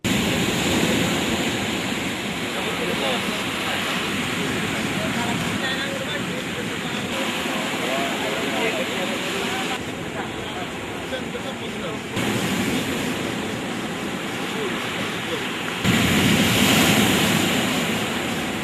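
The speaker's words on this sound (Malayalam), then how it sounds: "ശക്തമായ തിരമാലകളിൽപ്പെട്ട് കടൽ സംരക്ഷണ ഭിത്തി തകർന്നു" Strong sea waves pound Ethai beach at Engandiyur during heavy sea erosion that broke the coastal protection wall, a loud, continuous roaring surf with broad rushing noise that surges and eases in steady swells.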